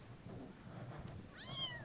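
A kitten that puppies brought inside gives one faint, high meow near the end of a quiet indoor clip, with soft rustling before it.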